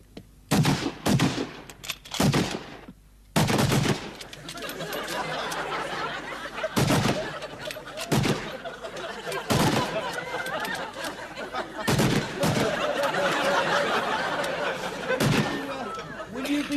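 Rifle gunfire on a firing range, a volley of loud, sharp cracks, some in quick pairs, spread unevenly across the stretch, with voices talking in between.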